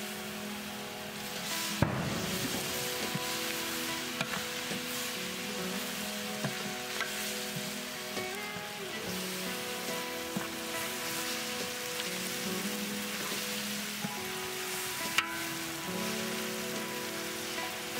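Ginger and garlic sauté in a pan for a mutton biryani, a steady close crackling sizzle throughout with a couple of brief knocks of a utensil, and no talk over it.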